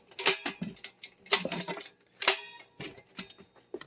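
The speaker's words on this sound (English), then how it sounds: "they lock into place like that for storage" Legs of a Supco magnetic HVAC umbrella stand snapping into their locked position: a quick series of sharp, crisp mechanical clicks and taps, close and fairly loud, in irregular bursts with short pauses between them.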